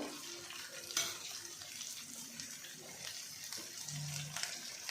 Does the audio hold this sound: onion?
yes